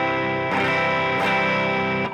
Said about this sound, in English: I'm running a little bit of drive here for the rhythm guitar